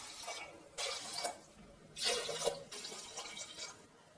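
Cups of water are poured one after another into washed rice and lentils for sambar rice, giving repeated splashing gushes with short pauses between pours, close and moderately soft.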